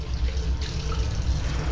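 Water runs steadily from a restroom tap in a small single-stall toilet, a continuous close splashing flow into the sink with no talk over it.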